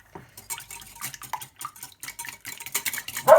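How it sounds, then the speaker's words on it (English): A whisk clatters quickly around a bowl as eggs are beaten into cheesecake mixture, with dense rapid scraping and tapping that grows louder toward the end, close up and without talk. "Whisk that together."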